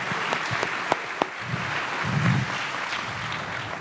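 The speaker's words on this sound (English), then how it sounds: "Let's give them a round of applause" Applause for panelists at a Bitcoin conference, a soft, even wash of clapping from a seated audience with a few sharper claps standing out, fairly faint and distant.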